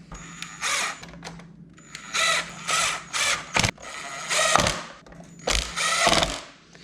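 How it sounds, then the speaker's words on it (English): A power screwdriver drives screws into a touch screen assembly from a Tahoe, Suburban or Yukon, in repeated close, loud bursts of whirring and ratcheting separated by short pauses. "now we're gonna come and screw all of our screws in there"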